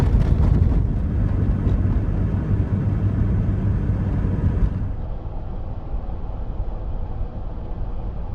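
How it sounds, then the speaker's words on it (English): Strong wind buffets the microphone at Marshall Pass on the Continental Divide in Colorado, at 10,842 feet: a loud, low, continuous rumble that eases somewhat partway through, with no voices. "The wind is horrible."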